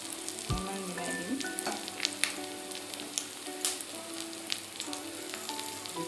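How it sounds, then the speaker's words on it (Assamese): Hot oil sizzles steadily in a pan as fish is stirred into fried onion, fermented bamboo shoot and chilli, with scraping spatula strokes and crackles over the continuous frying, close and without talk. "এতিয়া মই এই পিঁয়াজৰ আৰু খৰিচা জলকীয়াৰ ভাজিখিনি মাছ অলপমান মিলাই দিম"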